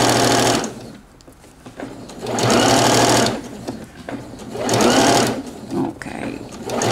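A sewing machine stitches bias binding around a garment armhole in three close bursts of rapid whirring, each one or two seconds long, separated by short pauses where the machine stops.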